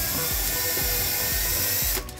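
A power drill with a 1/2 inch bit bores into a pop-up camper trailer, a loud, close, continuous whine with rhythmic grinding pulses that stops abruptly near the end.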